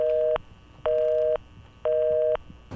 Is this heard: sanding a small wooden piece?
no